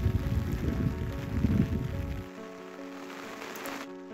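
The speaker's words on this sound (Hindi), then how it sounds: "और कुछ ही देर के बाद बहुत भयंकर बारिश भी शुरू हो गई" Heavy rain pours in a foggy outdoor setting as a dense, continuous close hiss, with a low rumble in the first half that falls away.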